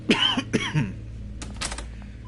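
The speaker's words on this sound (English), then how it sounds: "I'm going to do my best to not cough into the microphone" Two sharp coughs close to a microphone, followed moments later by a second burst of rough coughing and throat clearing.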